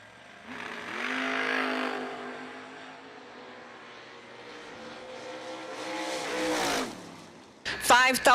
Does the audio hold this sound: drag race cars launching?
yes